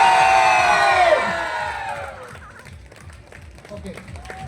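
A crowd at an outdoor company picnic cheers and shouts loudly, a burst of high yelling that fades after a couple of seconds into scattered voices and clapping.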